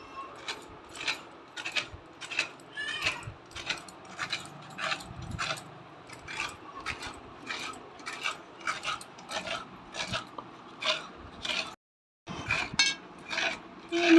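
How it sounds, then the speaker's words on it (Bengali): Coconut is scraped on a grater to make naru sweets, a rhythmic series of rasping, scratchy strokes repeating about once a second, close and clear, with a brief pause near the end. "নারকেলটাকে এবার কুড়ে নেওয়া হচ্ছে।"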